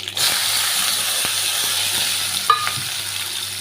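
Sliced small onions are added to hot oil with mustard seeds and cumin for a chutney, giving a steady close frying hiss with a few faint clinks and stirring sounds.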